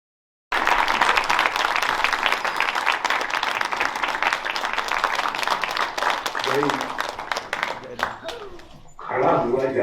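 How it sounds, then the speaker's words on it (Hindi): Audience at a Pune mushaira and kavi sammelan giving a standing ovation for an elderly poet, sustained loud applause filling most of the stretch before dying away, with a voice speaking near the end. "जो खड़े हो सकते हैं जोरदार तालियों से खड़े होकर स्वागत कीजिए हमारे दद्दू का"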